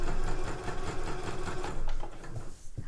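A sewing machine stitches a seam on a festive cushion cover, its steady, loud mechanical whirr running continuously with no talking.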